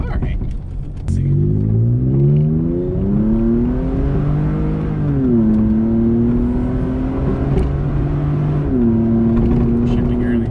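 A Toyota Tacoma with a custom tune revs and accelerates hard, engine note climbing steadily through the gears with brief dips at each shift, loud and close from inside the cab while occupants talk over it.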